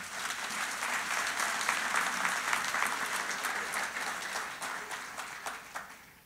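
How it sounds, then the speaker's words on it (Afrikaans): A wedding audience claps warmly for several seconds, many hands at once, the sound steady before thinning out toward the end. "Kom ons gee vir hulle 'n lekker hande klap."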